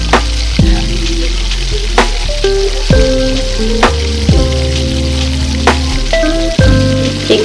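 Chicken pieces fry with browned onions in an oiled pan, a dense continuous sizzle broken by repeated sharp knocks and scrapes of stirring.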